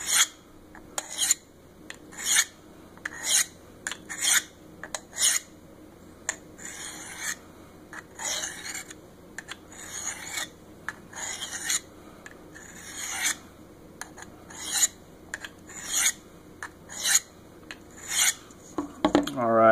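Knife blade drawn across the coarse stone of a Work Sharp Field Sharpener, a long series of regular, close, gritty rasping strokes, each a brief scrape with short pauses between.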